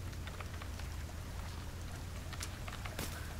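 Rain in the video game The Forest falls as a soft, continuous patter with scattered drops, faint and steady over a low background rumble.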